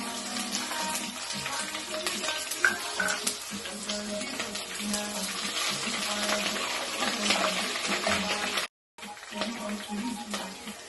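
Onion and crushed garlic sizzle in a pan for pineapple fried rice, a steady hissing crackle that runs nearly throughout, broken by one brief pause, with some voice underneath.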